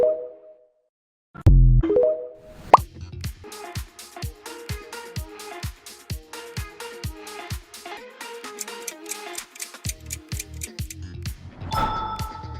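The TikTok audio logo: a quick run of sharp, evenly spaced ticking beats with short bright musical tones, forming a brief catchy audio logo.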